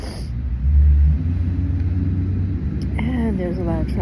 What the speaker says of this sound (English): And there's a loud truck.